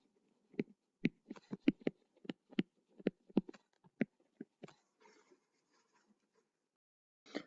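Chalk or marker strikes on a board while math is written out, a series of sharp taps and short strokes in an uneven rhythm, then trailing into near silence with a faint sound at the end.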